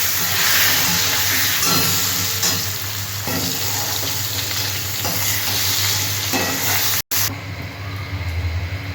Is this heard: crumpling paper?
no